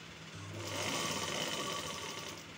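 Sewing machine stitching close along the edge of fabric, a steady, close whirring hum that holds for about two seconds with no talk.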